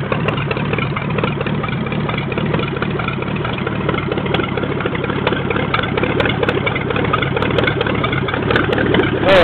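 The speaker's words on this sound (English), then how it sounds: "That was definitely a cold start." A Ford flathead V8 idling after a cold start, a loud, steady, even chugging rumble that holds throughout with no voices.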